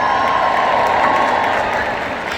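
A convention audience at a product launch breaks into steady applause and cheering, a dense wash of clapping that holds and slowly fades.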